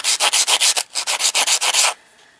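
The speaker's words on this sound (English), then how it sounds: "I'm sanding with the sanding sponge" Sanding sponge rubbed over cut tile edges in quick, rhythmic back-and-forth strokes, close and loud, about a dozen scrapes before a soft fade.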